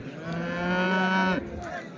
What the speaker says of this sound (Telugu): చింతామణి సంతలో క్వాలిటీ ఆవులు అయితే ఎక్కువ వస్తాయండి